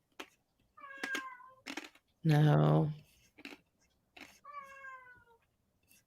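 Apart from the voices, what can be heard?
pet cat meowing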